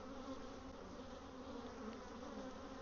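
A steady, dense drone of honeybees buzzing around an open hive during a swarm check, continuous and close with no pauses.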